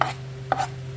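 Two sharp knife chops on a board, cutting peeled food into pieces, spaced about half a second apart, close and crisp with no talking.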